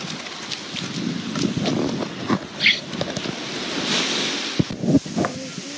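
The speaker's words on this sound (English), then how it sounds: "Yeah, the waves totally went down." Ocean surf at a Florida beach washes in a continuous broad roar, mixed with gusty wind buffeting the microphone and scattered knocks and thumps nearby.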